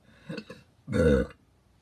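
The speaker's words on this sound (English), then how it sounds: "I apologize if I burp." A short, deep burp rumbles out close up after a couple of small throaty sounds, then quiet.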